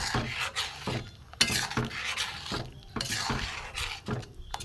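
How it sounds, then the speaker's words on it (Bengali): A spoon scrapes and stirs thick rice dough made from Gobindobhog rice in a pan, giving repeated rasping strokes at an irregular rhythm, close and moderately quiet, with no voices. "নাড়তেই থাকবো খালি"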